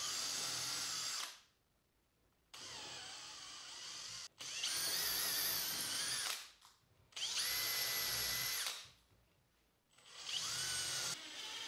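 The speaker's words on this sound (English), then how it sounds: "The flange on the T-nut is actually a little bit too big, so I'll cut that off with the angle grinder." An angle grinder cuts through the flange of a metal T-nut in a workshop, with three loud, high-pitched whining bursts of a few seconds each, separated by short quiet pauses as the tool spins down.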